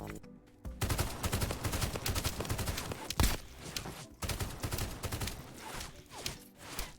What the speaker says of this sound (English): I could not even see the boss, Roadblock, but he had already started shooting at me.